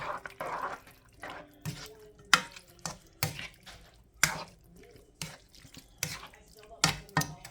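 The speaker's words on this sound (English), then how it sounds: "1 can of diced tomatoes. And go ahead and stir that around a little bit." Diced tomatoes and canned chili beans stirred in a pot, giving repeated soft scraping knocks and wet sloshing with a few sharp clinks of the utensil against the pot, close and moderately loud, with no talking.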